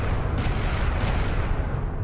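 A turret in the real-time strategy game Homeworld: Deserts of Khar fires a dense, rumbling barrage of rapid shots with no break in the heavy, close bombardment.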